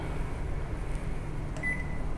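A Rinnai S650VGAS stainless gas stove with a glass top, 2009 model, gives a single short electronic beep as its timer button is pressed, over a steady background hum.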